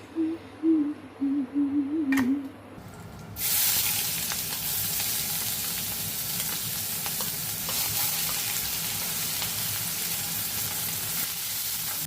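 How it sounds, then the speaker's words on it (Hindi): Onion and green chilli hit hot oil in a home kitchen pan, bursting into a loud, steady close-up sizzle after a few seconds of quieter sounds, continuing without pause and alone. "तो तेल जैसे ही गर्म हुआ है मैंने प्याज मिर्ची डाली है"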